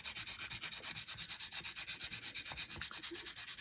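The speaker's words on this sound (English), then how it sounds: "Let me get my thumb or my finger sander." Small finger sander working on a wood scrap, a close, rapid rhythmic rasping pulse that repeats steadily with no pause and no talking.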